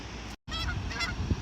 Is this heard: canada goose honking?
yes